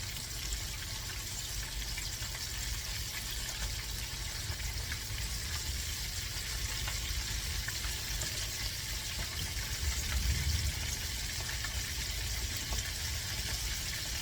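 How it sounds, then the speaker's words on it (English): Chicken pieces frying in hot oil, a steady, dense sizzle and crackle that holds close and even throughout, with a brief swell near the end and no voices. "So we're going to fry this up."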